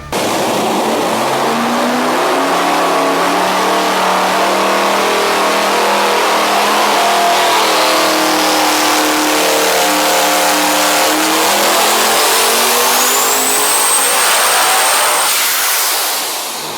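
A Devel Sixteen V16 engine making about 4,500 horsepower on a dyno at 36 PSI of boost, revving loudly and continuously as its pitch sweeps up and back, with a rising turbo whine near the end.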